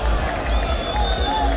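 Applause and cheering fill a bullring as the audience claps in a dense, continuous roar with crowd murmur mixed in.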